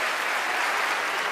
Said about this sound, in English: she bows to her amazed public as they give her a well-deserved round of applause